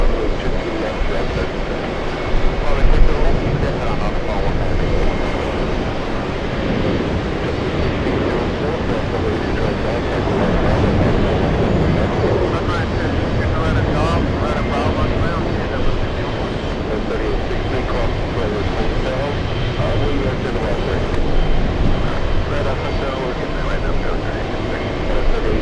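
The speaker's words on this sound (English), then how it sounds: "Pokemon All Nippon on final approach." An All Nippon Airways airliner in Pokémon livery on final approach to JFK Airport, with a continuous broadband jet roar and rumble holding steady across the whole stretch over outdoor background noise.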